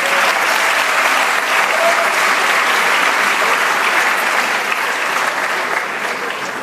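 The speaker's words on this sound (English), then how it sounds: "give him a round of applause anyway" A graduation audience gives sustained, even applause at a diploma ceremony, a dense wash of many hands clapping that stays loud and steady, tapering slightly at the end.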